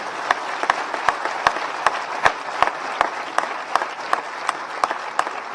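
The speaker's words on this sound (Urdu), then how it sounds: "جو صدر مشرف کے لیے آج کرسچنز نے تالیاں بجا کے ان کے لیے اچھے جملوں کا اظہار کیا ہے۔" A Christian audience at a Christmas ceremony in Pindi claps in a steady, even rhythm. The applause is loud and continuous, with sharp individual claps standing out.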